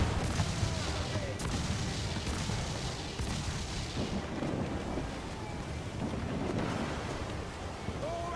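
Naval battle in Assassin's Creed 4 Black Flag, with several booming ship cannon blasts over rushing wind, waves and creaking sea ambience, the broadside shots spaced irregularly and fairly loud throughout.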